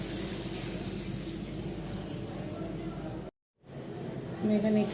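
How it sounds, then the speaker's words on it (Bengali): Water poured into a frying pan of lightly fried potatoes, a steady rushing splash with a hot hiss that breaks off briefly, then resumes quieter, with a voice speaking over it. "এবার আমি জল দিয়ে দেবো আন্দাজ মতো"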